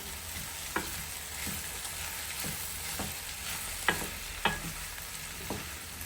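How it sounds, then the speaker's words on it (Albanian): A spoon stirs a sizzling filling of lung meat in a pan for a savoury pie, several distinct scraping knocks spaced a second or so apart over a steady frying hiss. "Tash e përzij masën mirë."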